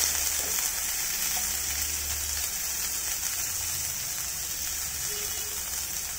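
Shallots and green bird's-eye chillies fry in a pan for cabbage thoran, giving a steady, even sizzle with a broad hiss that runs unbroken throughout, close and moderately loud, with no voices.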